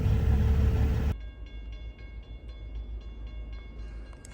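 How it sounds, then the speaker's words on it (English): A train rolls past a truck waiting at a crossing, with loud broadband rumble for the first second, then a lower steady rumble and faint rhythmic clatter from the passing cars. "The train's going by."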